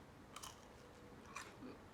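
Bites into a crunchy Filipino egg roll (lumpia) dipped in sauce, two brief crisp crunches about a second apart, close and fairly quiet over a low room hiss.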